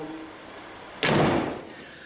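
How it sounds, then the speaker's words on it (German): A door slams shut once, a loud close thump that cuts in halfway through and then fades into a short decay. "Tür zu."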